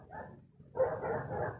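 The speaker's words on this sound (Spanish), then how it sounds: "ahí se escuchan unos perros de la vecina" Neighbour's dogs barking in the background, a burst of barks and yips rising after a quieter stretch, moderately close and steady in level.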